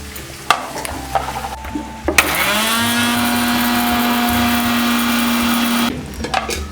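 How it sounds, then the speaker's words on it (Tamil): Roasted red chilies and fennel seeds are ground coarse in an electric mixer, with a loud steady whirring motor run of about four seconds, framed by clattering and handling noises before and after. "இந்த மிளகா, இந்த சோம்பு, இதை தூள் பண்ணிக்கிறேங்க"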